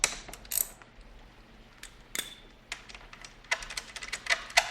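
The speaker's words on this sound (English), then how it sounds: "Let's go ahead and break the caliper loose." Ratcheting wrench clicks and metallic taps while loosening the front brake caliper bolts on a sportbike, close, crisp, irregular bursts of rapid clicking with brief pauses between.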